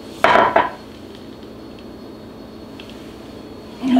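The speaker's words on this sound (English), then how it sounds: "then I scrape down the sides of the bowl" A utensil scrapes around the sides of a mixing bowl holding keto macadamia nut bread batter. Two short, sharp clattering scrapes sit at the start and end, with near quiet between them.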